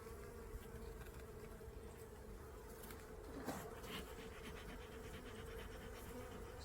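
Honeybees hum steadily around a spring beehive being woken and inspected, a dense continuous drone with a few individual bees passing close by.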